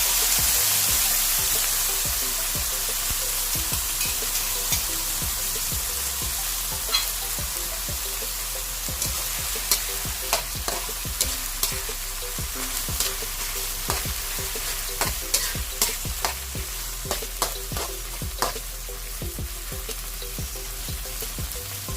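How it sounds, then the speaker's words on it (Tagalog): Corned beef sizzles steadily in a hot pan, a constant frying hiss punctuated by repeated sharp scrapes and clicks of stirring utensil against the pan, close and clear with no talk. "ang next naman natin lalagay yung ating corned beef."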